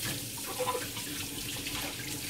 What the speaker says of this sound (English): Rinse lang gagawin natin.